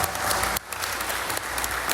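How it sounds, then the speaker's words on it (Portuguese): A church congregation bursts into applause during a sermon, dense steady clapping from many hands with a brief dip midway before resuming at full strength. "Vamos dar um aplauso a ele"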